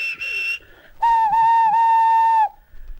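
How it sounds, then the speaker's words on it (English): Steam engine whistles sound in an audio adaptation, a short high whistle blast followed after a pause by a longer, steady, piercing tone lasting over a second, clear and fairly close. "The engines whistled and called out when they reached the cottage."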